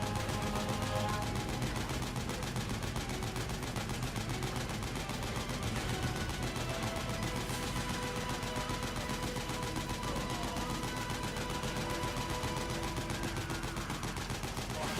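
Rapid gunfire from a weapon in Metal Gear Solid 4, a dense, continuous stream of shots running steadily through the whole stretch alongside game noise, with no talking over it.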